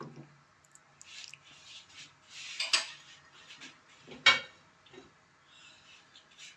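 A pot of slightly frozen keema is set onto a lit stove burner, with soft metallic rattles and two sharper clanks of pot against the grate in a quiet kitchen.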